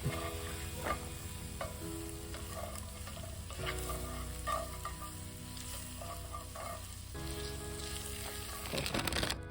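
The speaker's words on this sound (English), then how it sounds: "Now, stir that around. Get it all nice in there." Food sizzles and frys steadily in a pan at a family campsite at Norris Dam, with occasional scraping stir strokes over the continuous hiss, close and fairly loud, no talking.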